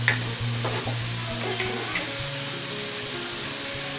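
Chopped chilies and other ingredients for a samosa filling frying in a pan, a loud, steady sizzle with occasional soft scraping stirs, and no one speaking.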